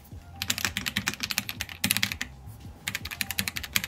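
Rapid clicky typing on the mushy keys of an inexpensive keyboard built into a leather tablet cover, close and steady with a brief pause near the middle, with no voices.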